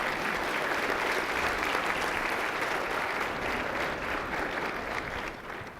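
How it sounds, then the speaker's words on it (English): A room full of people applauds steadily, a dense wash of clapping that holds level for several seconds and fades slightly at the end. "Let's give them a round of applause"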